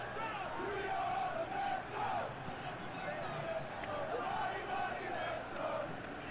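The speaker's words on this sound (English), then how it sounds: "We got their crowd chanting, we are the Metro, mighty, mighty Metro." A stadium crowd in PES 2023 chants a rhythmic, repeating team chant in waves, loud and steady throughout, with no talking over it.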